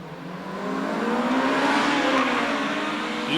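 A Honda Integra Type R and Civic EK9 accelerate hard from a standing start on a mountain course in Ebisu, the engine note climbing steadily in pitch, loud and close, with no talking.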